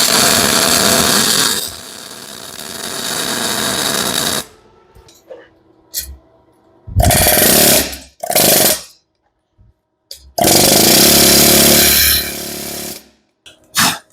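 Welding on a heated truck axle just pulled from an oven, loud harsh buzzing crackle in three bursts of several seconds each, separated by near silence with small clicks, close up and without speech.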